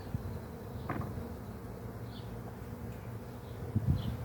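Honey bees buzzing around a backyard hive, a soft continuous hum with individual bees passing close at moments, a few faint thumps from handling the hive.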